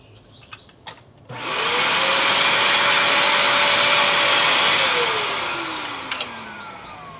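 A Bissell SpotClean Pro carpet cleaner switches on and suctions a car seat with a loud, steady whine for a few seconds, then winds down, with faint handling clicks before and after.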